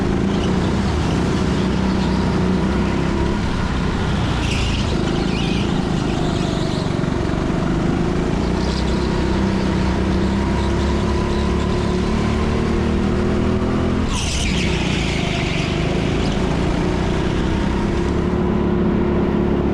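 Go-kart engines race on an outdoor TeamSport track in Leicester during a public session, a loud continuous buzzing drone with rising and falling pitch as the kart accelerates, brakes and overtakes, with brief sharper bursts from nearby karts.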